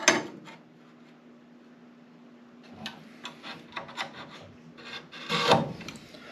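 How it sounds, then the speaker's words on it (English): A metal scribe scratches a line into a steel workpiece in a small home shop, a faint opening scrape followed by a run of short, close, irregular scratching strokes against a low steady hum. "And now I'll just trace it in deeper using my scribe"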